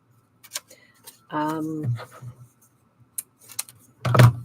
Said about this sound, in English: I love this sound of this paper.